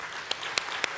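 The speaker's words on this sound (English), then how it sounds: "a big applaud to the top 5 papers of MRM" Conference audience applause at a scientific awards plenary, steady clapping with a few louder, sharper claps standing out.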